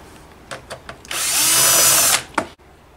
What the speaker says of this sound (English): we'll go ahead and remove all these screws